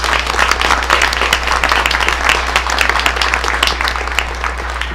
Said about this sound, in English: Please join me in applauding these students.